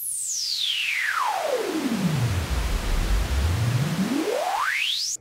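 High-pass filtered pink noise with strong resonance: a sharp whistling peak sweeps from very high down to a deep rumble, then glides back up, riding over a continuous hiss for about five seconds, with no voices.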